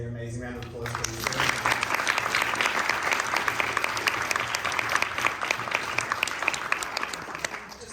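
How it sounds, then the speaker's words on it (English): A conference audience at a SXSW panel on social enterprises bursts into sustained applause after brief speech, dense clapping holding steady for several seconds. "Amazing round of applause for you"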